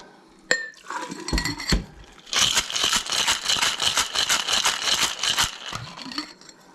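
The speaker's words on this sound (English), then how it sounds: "fill your Mai Tai glass with ice about overflowing" Ice cubes tumble and rattle into a Mai Tai glass, starting with a sharp clink and a few scattered drops, then a dense, continuous clattering pour that tapers off at the end.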